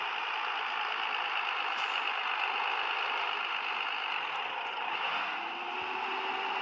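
Heavy truck engine labouring up a steep, winding road in Grand Truck Simulator, a steady loud drone that holds without pause and carries no talk.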